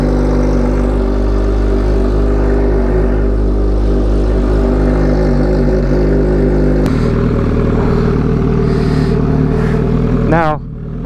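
An MV Agusta F4 motorcycle, a 2013 model, idles steadily with a dense mechanical hum before being fully warmed up, the engine tone shifting partway through and a brief rising rev near the end.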